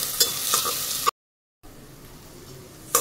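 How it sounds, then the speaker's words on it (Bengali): Chopped tomato with ginger and garlic paste is stirred in a pan, a bright frying sizzle with spatula scrapes, broken by a brief silent gap before softer sizzling resumes. "এরপরে আদা বাটা আর রসুন বাটা দিলাম, এবারে অল্প টমেটো কুচি দিয়ে নাড়ছি।"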